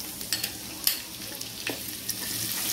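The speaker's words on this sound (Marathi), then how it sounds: "लगेचच आपलं जे आलं लसूण होतं पेस्ट ती घालूया आपण।" Ginger-garlic paste frying in a pan with bay leaf for a matar paneer pulao, a soft steady sizzle with a few light stirring clicks, close and without talk.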